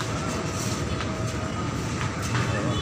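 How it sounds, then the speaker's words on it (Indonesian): A train runs straight through a station on track 3 with a steady, dense rumble of wheels on rails that holds evenly throughout, fairly close, without clear speech. "Kereta api melintas langsung jalur 3."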